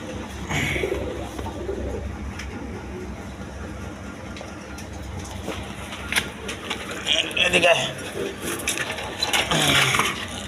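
Pigeons of several breeds coo in a low, continuous background murmur at a pigeon seller's place, with clicks and rustles breaking through near the end.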